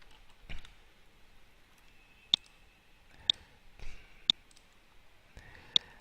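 A computer mouse clicks sharply several times at irregular intervals, close and isolated, with faint desk handling noises between the clicks.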